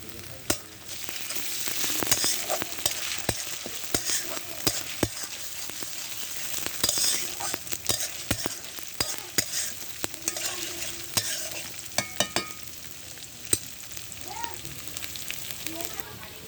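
Onion with garlic and ginger paste fries in a pan for goat meat curry, a continuous close sizzle punctuated by frequent sharp spatula strikes and scrapes against the metal.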